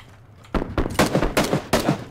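Rapid bursts of gunfire in the battle-royale game PlayerUnknown's Battlegrounds, about five or six sharp shots in quick succession after a brief quiet start, close and loud.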